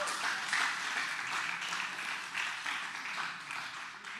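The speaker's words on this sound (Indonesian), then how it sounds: "Berikan tepuk tangan bagi Tuhan." A church congregation applauds together, a dense, even wash of clapping from many hands, moderately faint and sustained without any clear break.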